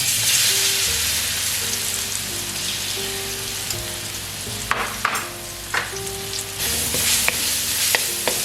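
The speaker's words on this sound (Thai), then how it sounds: "เจียวกระเทียมก่อนนะ เดี๋ยวเราให้กระทะร้อนแป๊บหนึ่ง" Garlic fries in a hot wok with a loud, dense sizzle and crackle close by, broken by a few sharp scrapes and knocks of a utensil toward the end.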